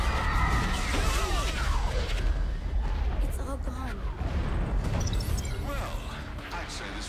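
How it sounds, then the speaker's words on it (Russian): The Earth explodes in Saints Row 4 as a long, heavy rumbling blast with crashing debris, loud and sustained, while people talk over it. "Это он типа взорвал землю или что?"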